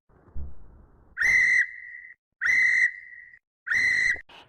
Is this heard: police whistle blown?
yes